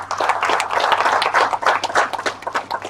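Audience applause at a project closing event, dense steady clapping from many hands that swells and fades slightly over a few seconds, with no talking over it.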